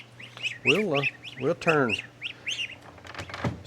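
Geese calling on a farm, several bursts of loud honking and squawks close by, overlapping with a voice speaking briefly.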